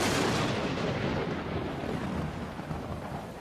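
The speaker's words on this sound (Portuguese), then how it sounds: "trovões ribombavam" Thunder from a huge storm rolls in a deep, loud, continuous rumble that slowly fades over a few seconds, with no voices.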